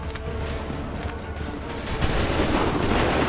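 Musket volleys from massed soldiers in Assassin's Creed 3, a dense continuous crackle of gunfire that swells louder toward the end, with no speech over it.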